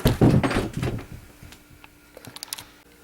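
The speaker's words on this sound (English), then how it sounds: "as soon as I open this door" Wooden door in a knife-making workshop, opened with a cluster of loud close thumps and rattles, then quieter clicks and small knocks as it settles.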